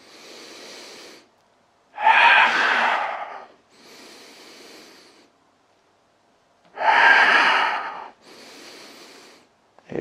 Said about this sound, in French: J'expire. J'inspire, je relâche.